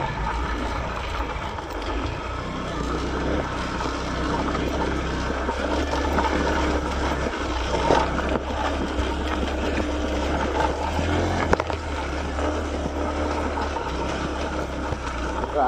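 A motorcycle rides along a rough, difficult road, with a steady loud rumble and rattling churn throughout and no clear voices.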